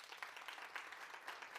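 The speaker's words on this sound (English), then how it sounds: "I want you to give him a round of applause" An audience at an International Women's Day event applauds a host, a soft, even wash of many hands clapping, faint and distant.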